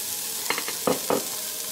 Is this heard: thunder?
no